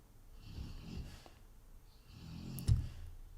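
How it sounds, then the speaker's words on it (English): A dog snoring at close range: two drawn-out, rumbling snore breaths a moment apart, the second ending in a sharp snort, with no talking. "That is a very bad snoring noise."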